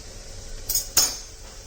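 Ginger garlic paste stirred in a cooking pot on an electric stove, giving two short metallic clinks of a spoon against the pot over a quiet background.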